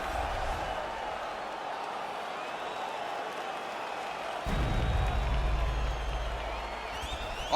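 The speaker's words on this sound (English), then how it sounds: "the crowd voicing its appreciation after that crazy sequence in the previous round" A virtual arena crowd in EA Sports UFC 4 applauds and cheers between rounds of a Khabib versus Quico bout. The crowd noise is a steady broad wash, and a low rumble swells halfway through.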